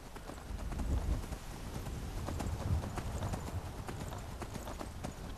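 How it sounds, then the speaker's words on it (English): Horse hooves clip-clopping at an unhurried walking pace in the video game Skyrim, with a steady rhythm of soft repeated hoofbeats at moderate distance and a faint background. "I got this horse, I can get there a lot faster than if I just walked."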